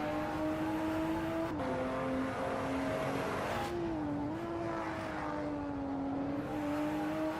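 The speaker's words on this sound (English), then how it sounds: "Didn't sound very good there on the downshift, very high revs." A sim racing car engine screams at high revs on the Barcelona circuit, with pitch drops as it shifts down, loud and close throughout.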